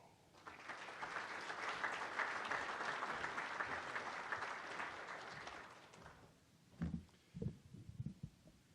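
An audience at an annual meeting gives sustained applause welcoming speaker Ed Augustus, a dense clapping that swells and fades after about six seconds, followed by a few soft thumps.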